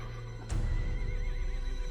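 A horse in a TV show lets out a whinny that rises suddenly, then trails off in a wavering neigh over a low, full background rumble, with no talk during the call.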